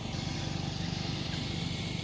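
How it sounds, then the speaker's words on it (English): A steady, low mechanical engine drone hums continuously in the background, faint and even, like a lawn mower running nearby. "Got a lawnmower coming here."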